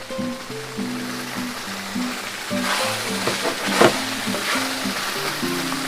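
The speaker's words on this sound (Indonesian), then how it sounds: "ketumbar bubuk, sambil terus diaduk ya teman semuanya supaya tidak gosong" Ground coriander, cumin and other spices frying in a large pot for a big batch of Surabaya beef rawon, a steady soft sizzle with scraping stirs and occasional clinks.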